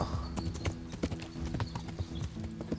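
Horse hooves clip-clop in a steady, quick rhythm in the medieval game Kingdom Come: Deliverance, moderately loud over faint background ambience.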